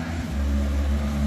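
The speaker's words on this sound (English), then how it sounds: "sorry about the traffic noise." Loud, close traffic noise from a passing car fitted with an aftermarket muffler on a country road, a steady low engine drone filling the whole brief moment.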